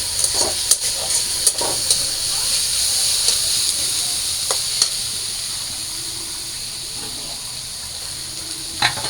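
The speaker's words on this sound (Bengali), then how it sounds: "এখানে পেঁয়াজ আর রসুনটা ভেজে নিন ভালো করে" Onion and garlic fry in oil in a pan, giving a steady close sizzle and hiss with scattered stirring scrapes and clicks throughout.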